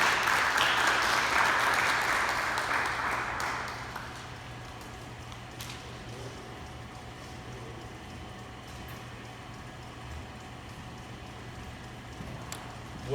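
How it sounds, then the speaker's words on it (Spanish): Applause from a church congregation for a deacon taking the floor: a burst of clapping for about four seconds that quickly fades, leaving quiet room tone. "un fuerte aplauso para él"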